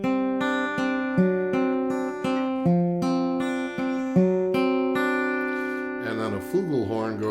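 Acoustic guitar plays the closing bars of the bridge from a song: rhythmic plucked chords repeat in an even pattern, then end in a rolled, ringing final chord, close and clear with no talking.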